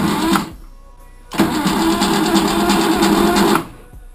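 BMW car engine idling on gas fuel, with a knock fault: a steady mechanical running hum that cuts out briefly near the start and then resumes loud and close for about two seconds before stopping.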